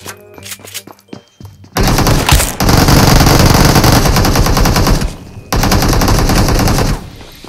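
Bursts of automatic gunfire in the mobile battle royale game PUBG Mobile: loud, dense rapid fire beginning after a quieter opening, with a short gap before a second sustained volley.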